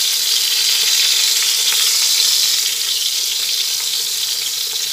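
Eggplant pieces fry in hot oil for Bengali radhuni begun, a loud, steady, close sizzle that holds evenly without talk.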